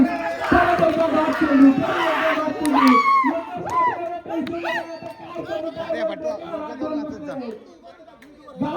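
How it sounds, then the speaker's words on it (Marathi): Lively crowd at a village night box cricket tournament final held for Holi, a dense wash of shouting and chatter with excited voices rising over one another, loud and continuous throughout. "फायनल मॅचचा जल्लोष बघा आता"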